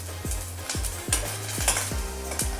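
Spinach puree gravy for palak paneer sizzles steadily in a pan while a spoon scrapes through it in regular strokes, roughly every half second, close and moderately loud with no talking.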